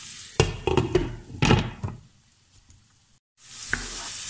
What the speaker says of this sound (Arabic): غنتسنى غير تهبط لي البصله شويه مع الفلفله